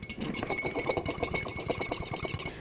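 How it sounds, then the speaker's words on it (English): Rapid, even clinking of a metal fork whisking matcha powder with water in a cup, a fast steady rattling rhythm heard up close for a couple of seconds before it stops. "I'm just gonna use a fork to mix this"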